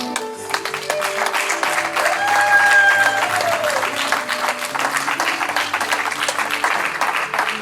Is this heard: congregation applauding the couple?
yes